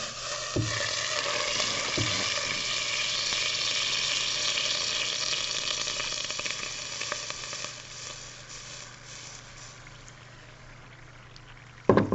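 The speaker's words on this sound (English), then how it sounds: "the liquid nitrogen is just boiling away" Steady hissing, bubbling boil of liquid nitrogen poured into a container, a continuous frothy roar with a few faint clinks, ending in a brief louder clatter.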